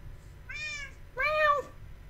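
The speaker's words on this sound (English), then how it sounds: "You sound so cute, little kitty cat." Two distinct Minecraft cat meows, the second louder and longer, with a soft low background hum between them.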